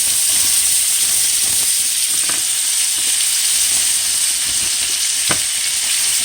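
Butter browning in a hot pan makes a loud, constant hissing sizzle with a few soft clicks and taps, close and uninterrupted, and nobody talks.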